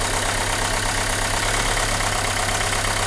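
A Renault Megane 2 engine runs at idle with a shaking fault, a close, steady low drone and hum that continues without a break.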